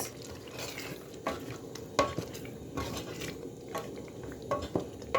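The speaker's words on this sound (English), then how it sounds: "So this is the perfect time to add your fried meat into the pot." Fried beef is stirred into a pot of Nigerian beef stew, a spoon scraping and clinking against the pot in irregular knocks over a faint, soft sizzle, quiet and close with no talk.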